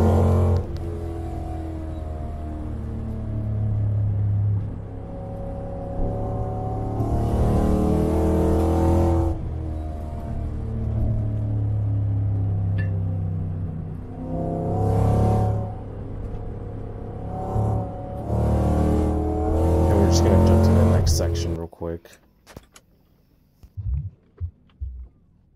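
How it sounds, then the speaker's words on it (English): A Lexus SC400 fitted with a limited slip differential cruising and accelerating on the road, its engine droning low and steady with repeated swells as the throttle opens, heard from inside the car. "we're just gonna do a little bit of cruising, moderate acceleration here and there, a little bit of attacking on the hairpins"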